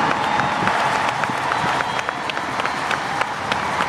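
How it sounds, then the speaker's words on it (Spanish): Audience applause for a troupe of dancers at a live performance, a steady wash of clapping with scattered sharper claps and crowd noise throughout, moderately loud and continuous. "another great big round of applause for all these fantastic dancers"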